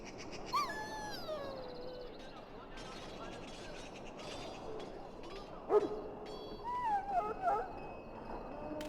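Dog whimpering in Dragon Age: Origins, soft high whines and yelps over a low game ambience, with a few louder cries near the end.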